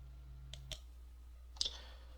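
Soft computer mouse clicks, three quick taps at a desk: two close together, then one slightly louder after a pause, all over a low electrical hum.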